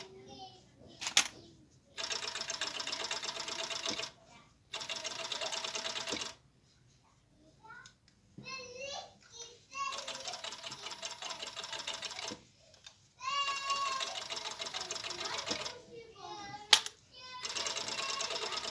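A serger overlock sewing machine stitches through the backer and topper layers of a cloth pad while its knife trims the edge. The motor whirs in several steady bursts separated by short pauses and quiet handling noises.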